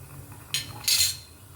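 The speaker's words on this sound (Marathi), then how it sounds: "तेल तापतंय आपलं. शेंगदाणे आपण थोडेसे परतून घेऊया." Peanuts being stirred and roasted in hot oil in a pan for dal khichdi, giving two short bursts of scraping and clinking, the second longer, over a quiet low hum.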